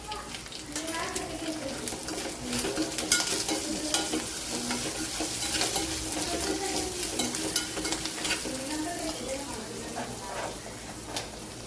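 A tempering of green chillies, then turmeric, being stirred and sautéed in a pan for spicy rice, with a continuous close sizzle and repeated scraping strokes of a spoon, under someone speaking.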